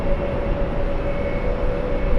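An American Airlines Boeing 777 airliner at JFK airport gives off a continuous engine drone with a steady tonal hum, loud and unbroken for the brief stretch.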